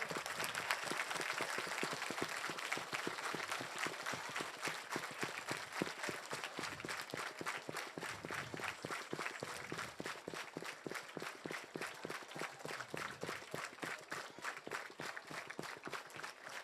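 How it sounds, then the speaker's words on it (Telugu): A large audience at a spiritual memorial gathering at a pyramid hall claps loudly and continuously, a dense crowd applause that keeps up for a long stretch with a slightly rhythmic, pulsing quality toward the end. "సో చప్పట్లు కొడదాం గట్టిగా."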